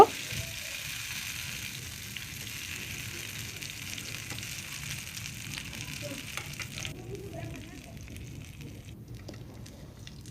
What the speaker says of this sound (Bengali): উল্টে পাল্টে আমি একটু লালচে করে ভেজে নেব